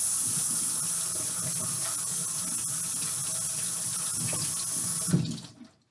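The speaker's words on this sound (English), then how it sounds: "turn on the water, and you can rinse the beans" Tap water runs steadily into a strainer of canned beans, rinsing them in a continuous close-up hiss and splash that ends abruptly as the faucet is shut off near the end.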